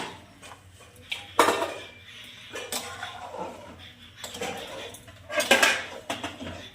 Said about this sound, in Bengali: দিয়ে আরেকটু ভালো করে নাড়াচাড়া করে নেব।